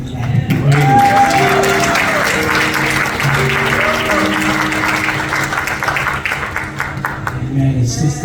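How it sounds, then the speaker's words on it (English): A church congregation at a Sunday worship service claps for the children, producing loud, sustained applause that fills the whole stretch without a break. "we gotta give these kids a hand clap"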